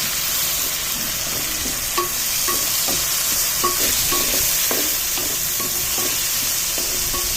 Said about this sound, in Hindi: टमाटर को भी अच्छी तरह से भूनेंगे।